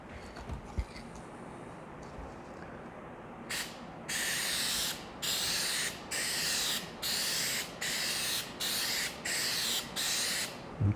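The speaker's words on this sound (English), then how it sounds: "I'll just give it a spray from the other side just to make sure we got all the little crevices" A spray paint can sprays aluminum wheel caps in a series of about eight short, close bursts of hiss with brief pauses between them, and no talk.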